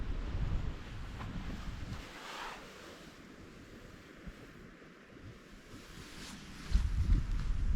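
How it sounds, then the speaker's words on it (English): Northerly wind gusting across a remote beach, buffeting close with rough bursts that ease off midway and swell again, over a soft wash of surf. "It's a little bit of a northerly wind, which is keeping us honest"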